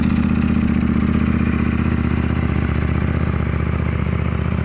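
A KTM Duke 890 GP motorcycle fitted with a VLAF aftermarket exhaust idles steadily nearby, a deep, even, lumpy burble with a light mechanical clatter, running alone without any voices.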